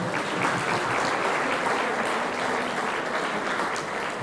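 A crowd at a sports gala featuring powerlifting applauds with dense, steady clapping throughout the four seconds. No one speaks over it.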